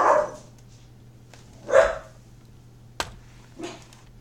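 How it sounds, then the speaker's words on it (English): A dog barks a few times in a quiet indoor room: two clear woofs about a second and a half apart, then a sharp click and a softer final bark, over a low steady hum. "Sorry about the dog barking there."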